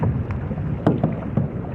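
A kayak paddle strikes choppy water in a wind storm, giving a few irregular splashes and dips about a second apart over a steady bed of wind and water noise, heard up close.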